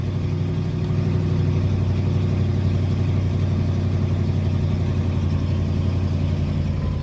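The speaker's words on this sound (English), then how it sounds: "Now I'm revving like motherfucking really hard." A 2000 Ford F150 with the 4.6 V8 holds a loud, sustained high-rpm drone, the engine note staying steady and unbroken for several seconds.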